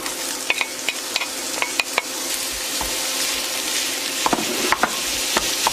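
Minced beef fries in hot oil in a stainless pan, giving a loud, steady sizzle broken by repeated sharp clicks and scrapes of stirring, with no talking.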